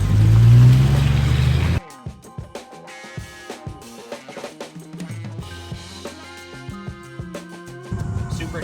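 An LS-swapped Jeep XJ engine revs loudly and close at first, then drops to a lower, uneven idle and running sound with scattered knocks and clicks, rising slightly again near the end.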